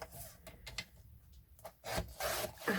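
A paper trimmer slices the border off a card in a few short, close scraping strokes with quiet gaps between them, then a louder burst of cutting at the end.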